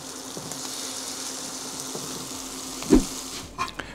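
Pike fillets coated in egg and Emmentaler cheese fry in a pan, giving a steady close sizzle with small crackles and a couple of brief knocks near the end.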